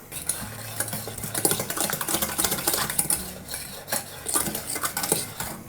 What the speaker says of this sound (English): The egg yolks and the sugar are mixed together, just lightly with a whisk.